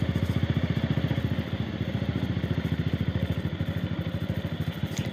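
A Bajaj Pulsar 150 motorcycle being ridden, its single-cylinder engine thumping in a fast, even pulse close to the microphone with wind rush, no talking.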